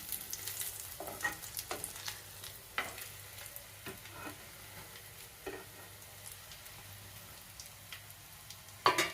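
A bread omelette fries in a pan with a soft steady sizzle, broken by occasional scraping and tapping clicks as it is turned, close but quiet, with no voices.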